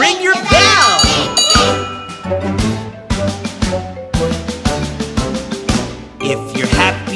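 Bright bell dings ring out in a Thomas & Friends nursery-rhyme song, struck in a quick regular rhythm over a bouncy band backing, loud and close in the mix.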